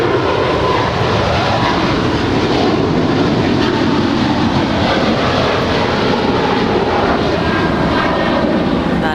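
A Boeing 777-300ER airliner departs LAX with a loud, sustained roar of jet engines, broadband and steady throughout, filling the whole clip with no pauses and no voices.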